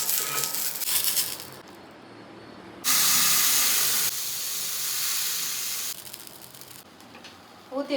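Banana pancake batter hits a hot pan for a lunchbox meal, setting off a loud, broad hiss that rises sharply, holds for about three seconds, then eases into a softer sizzle, with faint household noise around.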